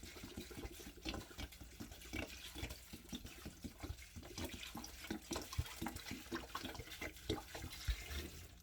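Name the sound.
pouring purified water into pot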